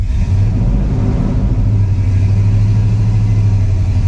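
A GMC truck engine revs hard under a pressed gas pedal, a loud, steady low rumble with a droning hum, close and continuous, with no voices.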